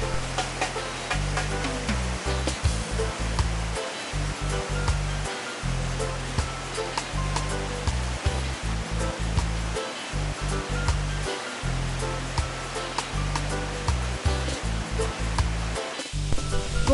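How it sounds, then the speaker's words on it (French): Steady rushing water from a mill flows back into a stream, a dense full-bodied wash with a pulsing low rumble underneath, fairly loud and close, with no voices. "L'eau qui a servi à faire marcher le moulin repart dans le ruisseau,"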